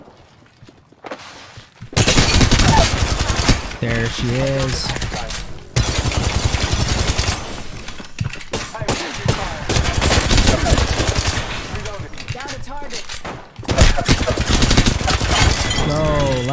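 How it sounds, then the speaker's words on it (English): Bursts of gunfire and rapid automatic shots from the video game Apex Legends, heard on budget Koss KPH30i headphones, loud and repeated in clusters with brief gaps, mixed with game effects and a short spoken line. "I hear shots on the right."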